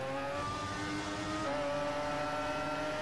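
A race car in a racing video game pulls away from the pits through an exit running under the track, steady engine whine rising in pitch, continuous and fairly close.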